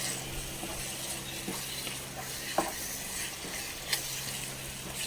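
Biryani masala with tomatoes and homemade curd being stirred in a pan, a steady soft sizzle with scraping strokes and a couple of sharper clicks of the spoon against the pan, no voices.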